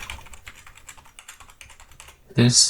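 Rapid keystrokes on a computer keyboard entering a mobile number, a steady run of light clicks for a little over two seconds, ending in a louder, brighter burst.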